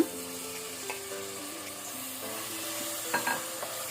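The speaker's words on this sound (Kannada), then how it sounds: "ಇದು ಸ್ವಲ್ಪ ಫ್ರೈ ಆಗಲಿ. ಟೊಮ್ಯಾಟೊ ಸ್ವಲ್ಪ ಫ್ರೈ ಆಗಿದೆ." Tomato pieces frying with ginger garlic paste in a pan, a steady broadband sizzle with occasional stirring scrapes and a few louder clinks near the end, close and continuous with no talking.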